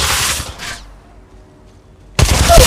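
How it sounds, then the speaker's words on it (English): Gunfire in the mobile battle royale game Apex Legends Mobile, a loud close burst of rapid shots that cuts off, a short quiet gap, then another loud burst at the end. "Getting shot at."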